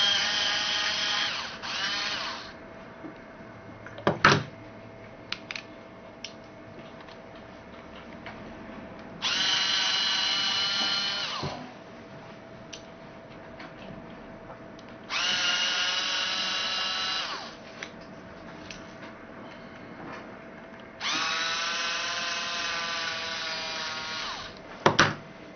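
Small electric screwdriver whirs in several short bursts backing out T6 screws on a Motorola SLVR L7 phone, close and fairly loud, with quiet pauses and light clicks between runs.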